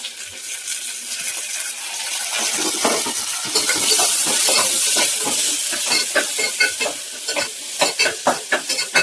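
Four chopped onions hit hot oil already seasoned with green and dried red chillies, bursting into a loud sizzle that stays strong, then rhythmic scraping and stirring in the pan grows more distinct toward the end.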